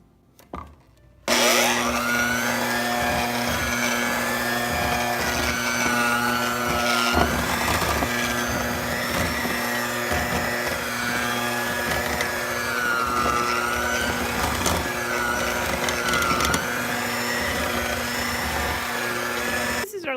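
An electric mixer hums steadily, blending flour into cookie dough, starting abruptly after a brief quiet moment and running loud and continuous with a faint voice beneath.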